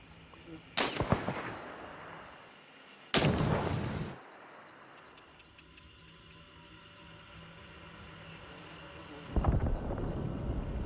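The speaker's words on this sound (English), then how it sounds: "adding true speed of sound and a gunshot ecosystem for a more authentic depiction of gunfire and explosions" Distant gunfire in the video game Hunt: Showdown booms in a few heavy bursts over a windy, rumbling background, with long quiet gaps between the shots.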